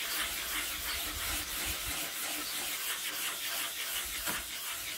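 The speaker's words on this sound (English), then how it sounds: "I'm going to give it a nice wet sand with some 400 grade wet and dry." Wet sanding of a Honda CB750 motorcycle tank with 400 grit wet and dry paper, a continuous close, soft hissing rub with steady back-and-forth strokes and no talking.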